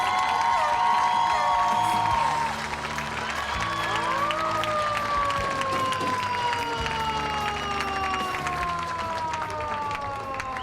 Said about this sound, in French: On applaudit le vainqueur, Sébastien Goujon.